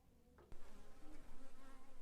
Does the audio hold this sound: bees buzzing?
yes